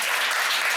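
A brief, soft patter of clapping from a studio audience on a daytime talk show, short and light.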